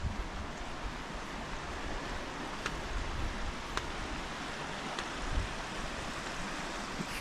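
Steady broadband rush of a river flowing right beside benches near Nant Mill on a walking route, continuous and fairly close, with light wind and a few faint ticks, no talk.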